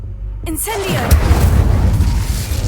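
Incendio fire spell from Hogwarts Legacy erupts with a sudden whooshing burst just after a brief vocal sound, followed by a sustained rumbling roar of flame and crackle that stays fairly loud to the end.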